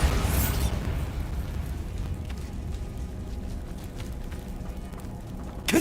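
Bombarda blasting spell from Hogwarts Legacy erupts in a loud burst at the start, then leaves a long rumbling decay with scattered debris-like crackle, no voices.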